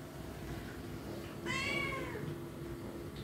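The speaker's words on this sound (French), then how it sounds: "Descends, mon chat, s'il te plaît." A house cat gives a single clear, drawn-out meow lasting about half a second, close by, over a low background hum in an indoor room.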